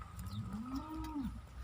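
A Friesian cross cow lets out a single drawn-out low moo that rises and falls, fairly faint and heard alone.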